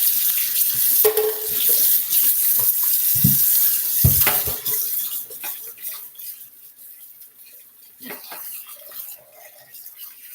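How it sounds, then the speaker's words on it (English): Tap water runs into a kitchen sink as a clear bowl is rinsed, a steady close splashing with a few knocks of the bowl against the basin, easing off toward the end; a voice speaks over part of it. "I'm going to wash this bowl really quickly because it's clear and you can see it. Let me rinse it out really quickly"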